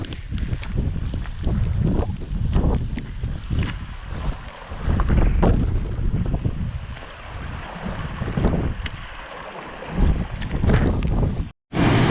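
Loud, blustery wind roars across a Scottish hillside ridge before heavy rain, with heavy microphone buffeting rising and falling in gusts throughout, and no voices heard.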